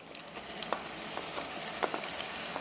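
Garam masala paste of ginger, garlic, cumin and coriander frying in hot oil for goat head curry. It gives a moderate, even sizzle with scattered light taps and crackles. No voices.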